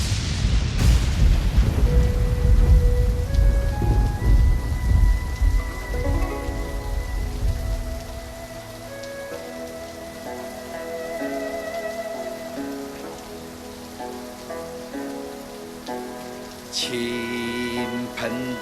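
A heavy downpour roars as a loud, dense, steady hiss for several seconds, then fades away under rising music, with a brief bright clatter near the end.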